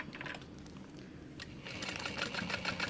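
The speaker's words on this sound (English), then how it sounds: "So what I'm gonna do first for the buckle side is I'm gonna sew that at 1/4 inch." A sewing machine stitches the buckle side of a hip bag at a quarter-inch seam allowance, a quiet steady mechanical whir that grows busier and more rapid partway through, with no talking.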